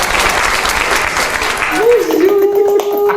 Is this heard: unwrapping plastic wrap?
no